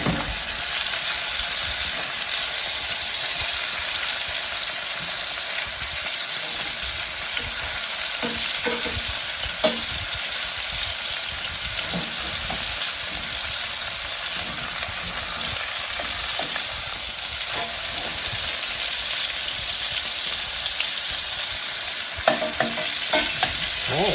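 Salisbury steak patties sizzle and fry steadily in a pan, a continuous close crackle with occasional sharper pops and spatters throughout.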